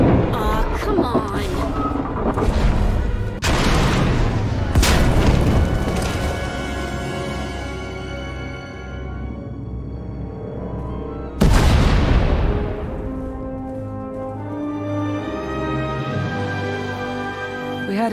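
Explosions in the Star Wars: The Old Republic video game: heavy booms burst out at intervals, each trailing into a long rumbling decay over a layered sci-fi score.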